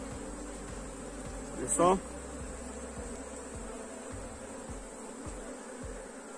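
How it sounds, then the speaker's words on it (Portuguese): Honey bees from a swarm buzz around a hive in a steady, low hum, with a brief nearby flyby whine, while someone speaks briefly over it. "o enxame está muito bom"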